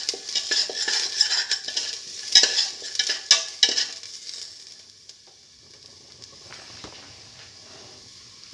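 Beef and eggplant sautéing in a pan, with loud sizzling and repeated metal spatula clanks and scrapes for about five seconds, then the frying settles into a quieter, softer hiss with occasional taps.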